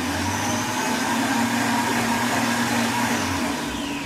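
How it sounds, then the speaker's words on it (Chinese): An iNNOCHEF blender on its turbo setting runs loud and steady, its motor droning without pause while chopping shallots, garlic, lemongrass and chilies. "同样是 turbo 的方式呢，我们就要给大家看怎么样可以帮我们来切我们的这个食材"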